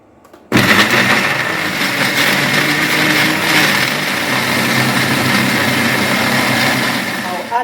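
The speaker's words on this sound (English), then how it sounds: "Add it into the blender. I have some garlic cloves also. I'll add it in. I'll blend this till it's very smooth." A kitchen blender pureeing tomatoes and garlic cloves into pizza sauce, switching on abruptly and then whirring loudly and steadily, with a slight dip just before the end.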